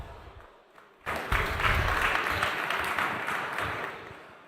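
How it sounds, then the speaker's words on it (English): Audience applause breaks out at a daytime innovation stage event, dense and steady clapping from a sizable crowd that swells suddenly after a quiet start and holds at full strength. "So please give a warm applause to Werner."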